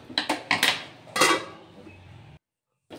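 A utensil stirs spinach with coconut and spices in a pan, giving several quick metallic clinks and scrapes, then a short silence.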